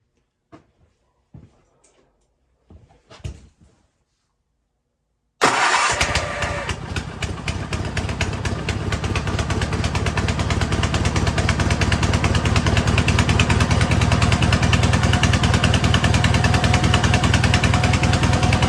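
A Gravely 8183-T garden tractor engine, being revived and with a leaking fuel pump, cranks and catches after a few quiet clicks and handling noises, then runs steadily and loudly with an even, rapid thrum close by.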